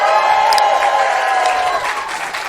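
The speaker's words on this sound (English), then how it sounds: "give us a cheer if you have heard Do Go On before" A live comedy podcast audience cheers and applauds, a dense and loud crowd roar with clapping that holds steady throughout and then begins to ease off slightly.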